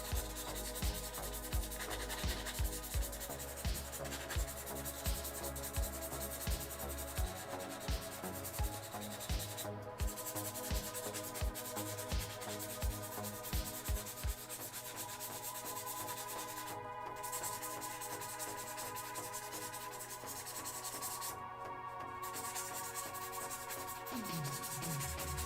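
Steady abrasive rubbing roughs up the surface of a plastic egg, with repeated scratchy strokes in a regular rhythm at first, then a softer continuous scuffing. The sound is close but faint, with no talking.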